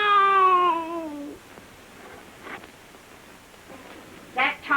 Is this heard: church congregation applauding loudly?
no